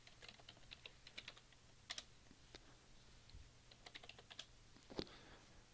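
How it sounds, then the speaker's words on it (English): Typing on a computer keyboard, a close, quiet run of irregular key clicks with a few sharper taps, steady pacing and no voices over it. "I'll type it for you."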